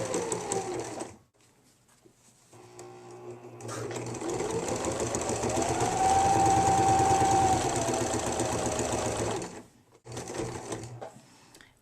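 A sewing machine stitches a zippered coin purse, running in short bursts and then a longer steady whirring stretch with a rapid needle rhythm, stopping and restarting briefly near the end.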